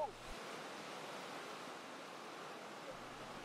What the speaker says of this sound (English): The Eisbach is an artificial river, a tributary of the Isar, flowing into the English Garden, and at this point, near a bridge, it forms a standing wave.